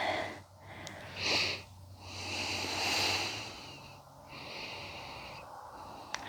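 Deep, slow breathing during a hip mobility stretch, with long drawn inhales and exhales in a steady rhythm, close and soft, with no talking.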